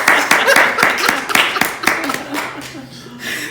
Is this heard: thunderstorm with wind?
no